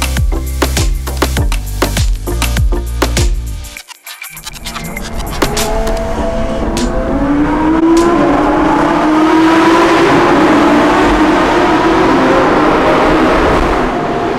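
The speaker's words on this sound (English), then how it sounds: "we're gonna go and explore the real sound of this V12 and hit some tunnels" Ferrari 812 Superfast V12 driven through road tunnels, with loud, rapid revving bursts at first, a brief drop to near silence, then a sustained roar that builds and echoes. No speech is heard.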